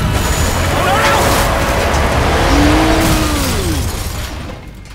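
Truck crash in The Walking Dead: A New Frontier video game, a loud sustained rumble of impact and scraping metal with screeching tones and debris, tapering off at the end, with voices underneath.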